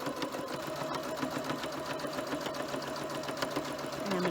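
A sewing machine runs steadily, stitching through the blue flange binding of a quilt with a continuous fast mechanical whir and rhythmic needle clatter.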